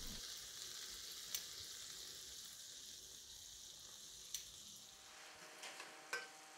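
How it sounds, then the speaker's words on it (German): Apple fritter batter frying in oil in a pan, a steady close sizzle with occasional small pops and crackles. "Wir braten natürlich das Ganze so lange an, bis kein Teig mehr übrig ist"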